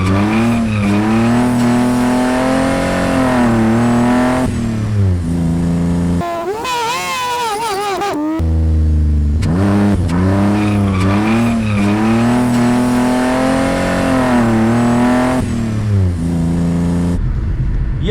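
Open-differential car drifting with clutch kicks, the engine revving hard and rising and falling in repeated sweeps, with a short gap of tire squeal between the loud, close bursts.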